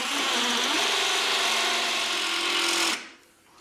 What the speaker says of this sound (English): It takes freaking 20 seconds to drill through concrete.